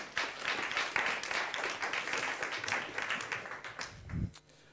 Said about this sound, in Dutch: geef haar ook een hartelijk applaus